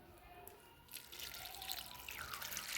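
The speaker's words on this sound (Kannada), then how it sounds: "ಈಗ ಒಂದು ಸ್ವಲ್ಪ ನೀರು ಕೂಡ ಹಾಕ್ಕೊಳ್ಳೋಣ." Water is poured into a cooking pot while preparing a traditional mixed lentil and greens dish, a steady splashing trickle that swells and grows louder after the first second, with no talk over it.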